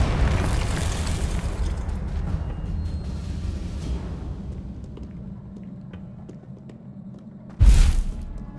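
A deep, rumbling boom from a Confringo blasting curse in Hogwarts Legacy rolls out and slowly decays, followed by a second sharp, loud blast near the end.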